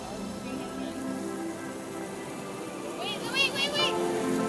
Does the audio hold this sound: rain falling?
yes